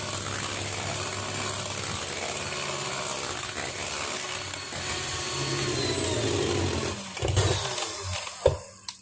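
An electric mixer beating eggs into butter batter for a carved sponge cake, a loud continuous motor whine that shifts in pitch, then a few knocks and clatters near the end.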